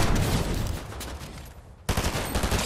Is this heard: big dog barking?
no